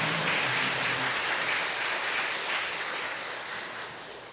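Church congregation at a Sunday worship service applauding the Zion choir, its conductor, accompanist and members: dense, steady clapping from a large crowd that holds strong, then slowly fades toward the end.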